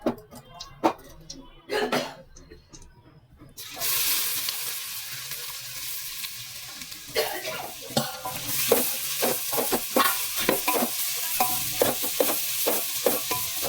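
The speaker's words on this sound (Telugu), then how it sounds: "క్యారెట్ కూడా దాంట్లోనే ఫ్రై చేసుకుందాం." Carrots for kheer frying in a pan, with scattered stirring scrapes and a steady sizzle that swells after a few seconds of quieter clatter and a brief cough, close and moderately loud.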